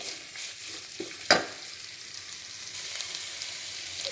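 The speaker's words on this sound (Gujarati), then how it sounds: "બધું છે ને બરાબર મિક્સ કરી લેવાનું છે અને 5 મિનિટ માટે કૂક થવા દેવાનું છે" Rice with carrots is stirred and fried in a pan, giving a soft, continuous sizzle with light scraping and one sharp clank of a spoon against the pan near the start.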